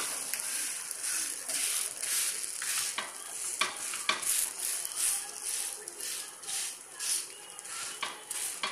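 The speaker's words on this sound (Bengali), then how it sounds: "একটা পিঠ হালকা হালকা লাল লাল করে ভাজা হয়েই গেছে" Pitha sizzling and frying in a pan while being stirred and turned, a steady close sizzle with occasional scrapes and clinks of utensils against the pan, with no talking.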